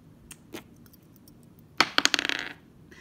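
Several dice tumble and clatter across a tabletop in a quick burst of sharp clicks that taper off, following a few earlier isolated taps in an otherwise quiet room.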